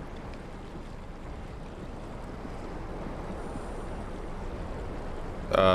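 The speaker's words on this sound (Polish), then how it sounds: "jak głośno z tą wodą" Water in the video game SOMA rushes and washes continuously like waves, a fairly quiet steady wash, with a sharp tonal game sound cutting in at the very end.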